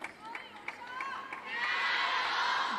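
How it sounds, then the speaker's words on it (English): A table tennis crowd at the World Championships in Doha chants a player's name in steady rhythmic bursts, swelling into sustained cheering toward the end, with commentators talking over it. "Plenty of support for her here in the crowd. You can hear them chanting her name."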